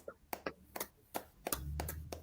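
A handful of slow, separate hand claps, about eight distinct slaps at an uneven pace, close and fairly quiet, with a low hum rising toward the end.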